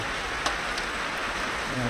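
Steady rain falls on a house roof during the rainy season, a constant dense hiss with a few sharper drop impacts, fairly close and unbroken for the whole stretch.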